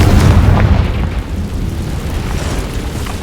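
A Confringo fire spell bursts in Hogwarts Legacy, one loud, close booming blast that fades into a long rolling rumble.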